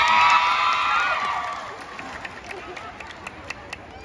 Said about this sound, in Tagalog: Kung mas gwapo si BM Jae, palakpak daw tang tanan.